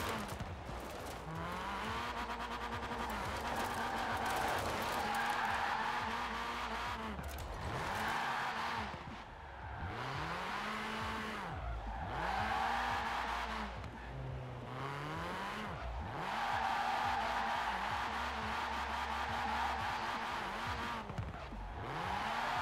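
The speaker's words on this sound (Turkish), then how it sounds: "Aracın sesini duyun diye konuşmuyorum arkadaşlar ya." A car in a driving video game revs up and down through repeated gear shifts, its engine rising and falling in loud sweeping pitches, with tires skidding and squealing in between.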